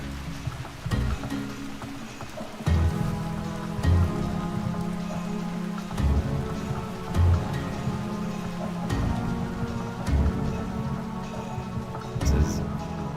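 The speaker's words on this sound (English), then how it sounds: "This is definitely raining here." Steady rain falls in the video game Vintage Story, a continuous wash of patter under light background music, with a few soft thumps along the way.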